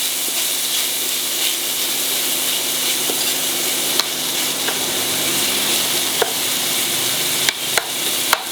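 Tomatoes fry in a pan with a steady close sizzle, and a utensil scrapes and taps against the pan several times, most sharply near the end.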